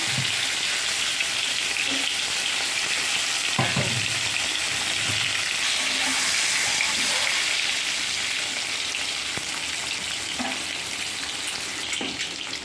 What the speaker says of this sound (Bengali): এবার আমি ডিমটা হালকা করে ভেজে নিয়েছি, বেশি ভাজবো না।